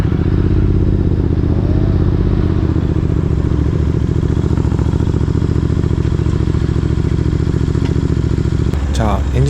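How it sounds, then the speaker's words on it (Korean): A Royal Enfield Interceptor 650 with an aftermarket muffler idles close by, a loud, deep, steady, throbbing engine pulse that stays constant before a brief clatter at the end. "공회전 시 클래식 350은 좀 더 통통거리는 맛이 있었다면 인터셉터는 좀 더 중후하게 두두두두두둑 하는 느낌이었다"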